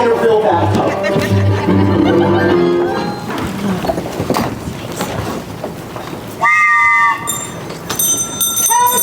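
A train effect in a stage musical, with loud rumbling rolling-stock noise and clattering, then a bright whistle-like horn blast near the end, with singing and music mixed in.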